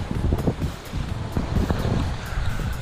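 Steady wind rushing over a sailboat at sea in a 12–14 knot breeze on a solo Atlantic crossing, with broadband gusty noise, low rumbling wind buffeting the microphone and faint water wash throughout, no voices.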